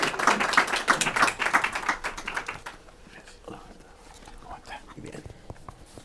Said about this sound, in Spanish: un aplauso para el doctor Torres